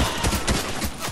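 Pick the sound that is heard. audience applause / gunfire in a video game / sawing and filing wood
gunfire in a video game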